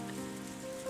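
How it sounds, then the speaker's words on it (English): Steady rain patters onto ground in a visual novel scene, beside a row of ginkgo trees whose trampled leaves lie on earth marked with footprints; a soft, even hiss holds throughout, with a sustained musical tone running beneath it. "The rain falling onto the ground, already heavily covered in footprints."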